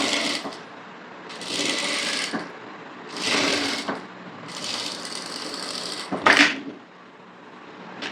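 A sewing machine top-stitches the lining of a blouse in several separate bursts of steady whirring, a few seconds each with short pauses between and a brief clack near the end, heard close with no talking.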